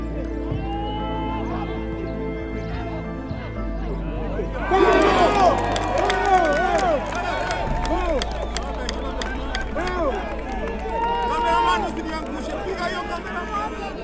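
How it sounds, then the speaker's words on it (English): A crowd at a Kahawa Pride football match roars and chatters after a goal. The babble swells suddenly partway through and stays loud and dense, with voices talking over it. "The crowd went wild."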